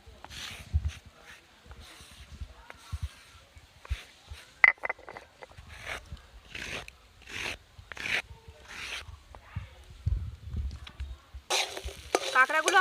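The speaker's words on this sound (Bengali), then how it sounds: "কাঁকড়াগুলো আমার সব ভেজে নেওয়া হয়ে গেছে, এবার আমি তুলে নেব।" Crabs frying and being stirred in a pan in a village-style kitchen give off intermittent sizzling and scraping bursts at close range, with a voice talking in between.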